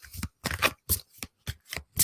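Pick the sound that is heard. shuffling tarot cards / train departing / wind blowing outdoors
shuffling tarot cards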